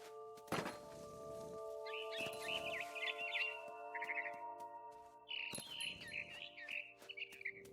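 A barn swallow chirps in quick twittering bursts in the video game What Remains of Edith Finch, over a sustained synthetic drone, punctuated by a few soft thumps.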